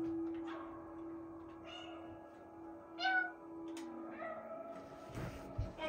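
Several short cat meows from the PS5 game Stray stand out over a steady electronic hum and background game sounds, each cry brief and fairly close.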